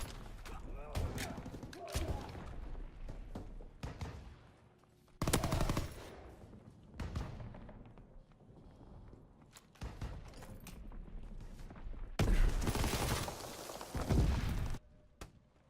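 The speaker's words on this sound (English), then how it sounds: "Suppressing fire! They're bombing in the apartment!" Video game gunfire in bursts of rapid automatic shots and heavy impacts, loud and close, separated by quieter stretches with footsteps and thuds, with people's voices calling out between the volleys.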